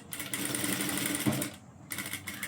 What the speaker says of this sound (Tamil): மிஷினில் வச்சுட்டு என்ன செய்யுங்க அப்படின்னா, முதல்ல வந்து ஒரு ரஃப்பாக ஒரு தையல் போடுங்க